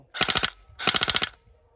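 An MK18 Bolt Mod-1 EBB airsoft electric rifle rattling off two short full-auto bursts, each a fast clatter of rapid shots with a brief gap between, heard close up and alone.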